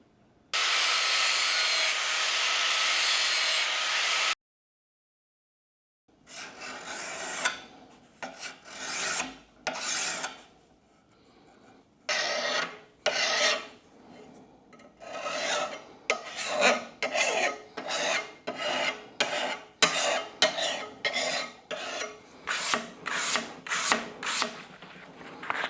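A hand file rasps against a lawn mower blade in a long steady stroke, then after a pause in a series of short rhythmic strokes that grow quicker and denser, close and alone with no talk.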